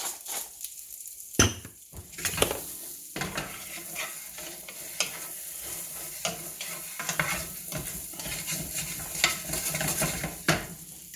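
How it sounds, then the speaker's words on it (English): About a pound of green beans with kosher salt and black pepper sauté in a pan over medium heat, sizzling steadily, broken by scraping stirs and occasional clanks of the pan. No voices are heard. "We'll turn this to medium and let them just kind of pan, saute, move around until they soften."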